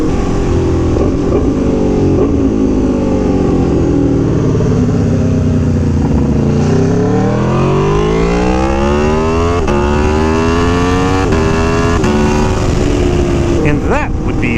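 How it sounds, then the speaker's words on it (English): A loud Aprilia Tuono V4 1100 Factory engine revs repeatedly through an SC Project CRT exhaust, pitch sweeping up and down with a raspy tone, close by and continuous. "The sound of a V4 pushing exhaust gases through an SC Project CRT exhaust."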